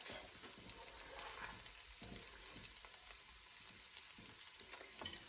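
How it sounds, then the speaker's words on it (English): Carrots going into a pot with onions for wild rice corn chowder, a faint steady sizzle and crackle with a few light stirring scrapes, heard quietly and without talking. "I'm going to put in the carrots"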